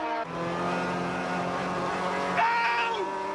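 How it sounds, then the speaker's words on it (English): Opel GSI and other Group N race cars at full throttle on a racing circuit in South Africa, a loud sustained engine roar with shifting harmonic pitch and a brief rising whine near the end, no talk. "Grant McCleary's got back in the Opel GSI in the front there with de Villiers still challenging"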